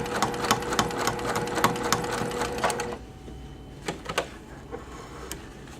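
A sewing machine set to stitch length 6 runs fast for about three seconds, its needle hammering in a steady quick rhythm close to the mic, then slows to a few scattered isolated stitches.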